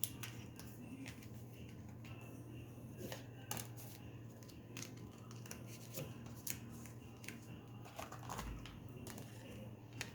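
Tarot or oracle cards are drawn and handled in a quiet room, giving soft intermittent shuffles, taps and slides over a low steady hum.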